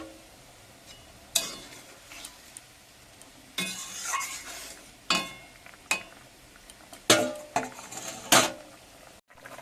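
Prawns stirred into a simmering curry with garden greens, a steady low sizzle broken by several sharp scrapes and clinks of a utensil against the pot, close and without talk.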